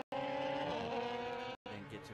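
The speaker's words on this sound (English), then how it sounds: "it was off the road once again goes the car of" A race car at a New South Wales motor racing championship round runs off the road, its engine a sustained buzzing drone split by two abrupt cutouts, with a voice faintly present.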